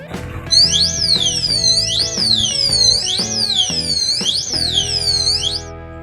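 A loud electronic car anti-theft alarm siren whoops in repeated rising-and-falling sweeps, about five cycles in a steady rhythm, close by and with no talking.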